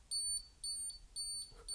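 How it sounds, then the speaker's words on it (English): A 1980s Nikon film SLR gives its exposure warning, three evenly spaced high electronic beeps, each lasting about a quarter second, loud and close with no talking. "it's also got an audio signal as well if you need it to tell you if you're underexposed or overexposed"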